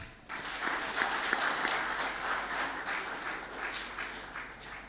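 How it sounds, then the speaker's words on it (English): Audience applause at a campus marketing conclave greets a speaker in the field of product management, steady dense clapping that swells and holds for several seconds, with no talking. "Let's welcome him with a big round of applause."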